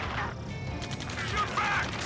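Gunfire rattles in an Ace Combat 7 video game cutscene: bursts of rapid shots at moderate loudness, blended with mechanical clatter and a dense battle backdrop.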